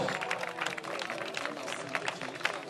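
A crowd applauds at a longsword tournament at Grunwald 2013. The clapping is dense and continuous, mixed with crowd noise, at moderate distance, and keeps an even level throughout.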